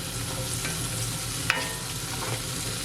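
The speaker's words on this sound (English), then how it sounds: "Give it a stir." Onions sizzle and fry in a pan while being stirred, a steady hiss with soft scraping strokes and one sharp clink of the utensil against the pan partway through.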